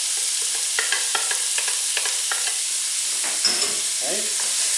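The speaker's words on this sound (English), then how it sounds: "first saute the onions while scraping up the fond at the bottom of the pan" Chopped onion sautéing in a pan for chicken tikka masala, with the bottom being scraped: a continuous bright sizzle broken by repeated spoon scrapes and taps, close and clear.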